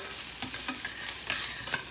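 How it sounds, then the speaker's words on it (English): Carrots and other vegetables sizzle and crackle while being stir-fried in a hot pan for an Asian-style paleo dish, with scattered spatula scrapes and stirring clatter over a steady frying hiss. "So this is really starting to sizzle now."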